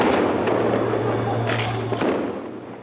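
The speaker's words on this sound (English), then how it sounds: "A warehouse full of fireworks is ablaze, and 4 green goddesses are at the scene." Fireworks explode inside a burning warehouse full of them, firefighters at the scene: a loud, continuous roar of crackling bursts and pops with scattered sharper bangs, fading slightly toward the end.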